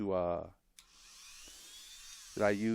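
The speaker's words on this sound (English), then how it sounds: "I have my Dremel." A handheld Dremel rotary tool with a carving and sanding drill bit spins up briefly between spoken words, giving a thin, steady, high-pitched whine that rises slightly before cutting off as talk resumes.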